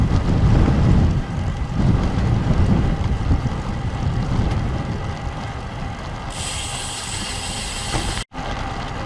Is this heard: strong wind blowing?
yes